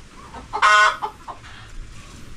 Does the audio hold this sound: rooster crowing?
yes